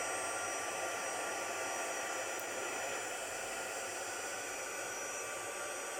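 A hair dryer blows steadily and loudly up close, heating a piece of magic foam, a constant broadband whoosh that runs unbroken from start to finish with no talking.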